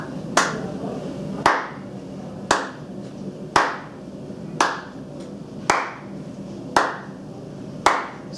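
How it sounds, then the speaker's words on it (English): Eight sharp hand claps land at an even, steady pulse about a second apart, one clap for every two bounces on a rebounder, close and clear over a faint background with no talking. "so that's 1 clap for every 2 bounces"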